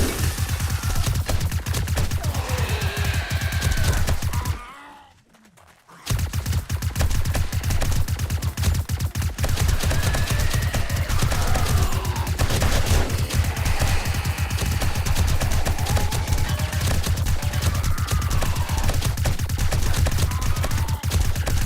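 A gun fires in rapid, continuous bursts in the 7 Days to Die YourEnd mod, loud and close, with the stream of shots breaking off once for about a second before resuming steadily under faint game ambience.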